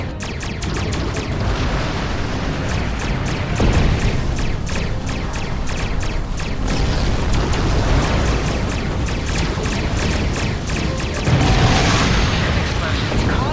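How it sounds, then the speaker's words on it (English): Space battle explosions in the Star Trek Online video game, with a Klingon ambush underway; dense, loud booms and crackling bursts pile up continuously with repeated sharp impacts, heavy low rumble throughout. "Explosions cause damage."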